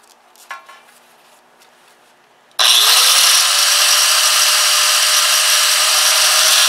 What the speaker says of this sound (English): I'm going to cut from line to line going across on the inside